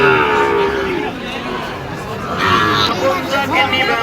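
Gir and Sahiwal cattle moo loudly through a noisy crowd at an outdoor cattle market in Bangladesh, with voices chattering and babbling around the animals throughout.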